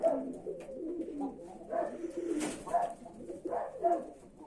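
A domestic pigeon, one of a pair of blue birds kept in a loft, gives repeated soft, throaty coos in close succession, near and clear with no talking.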